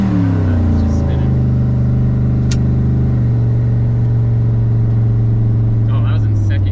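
Car fitted with a Holley Terminator X EFI system accelerating in second gear, a loud, steady engine drone that rises in pitch as it pulls, heard from inside with the engine dominating.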